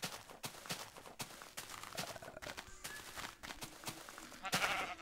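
Sheep bleating in the Minecraft video game amid clicking game sounds and attack hits, brief bleats scattered through the clip at moderate level.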